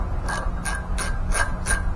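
Rusted screws on a Husqvarna mower are struck to shock the threads loose: about five sharp metallic taps, evenly spaced and fairly close, over a steady low background hum.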